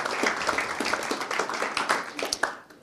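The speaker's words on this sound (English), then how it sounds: "I would like a round of applause for Raphael and Ran." At the close of an urban remote-sensing research conference session, an audience claps for the presenters. The individual claps stay fairly distinct and irregular, moderately loud, and the sound thins out toward the end.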